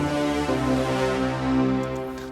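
A stacked distorted Alchemy bass layered with an octave synth in Logic Pro, a big buzzy sustained chord that changes pitch partway, steady and loud with no voices.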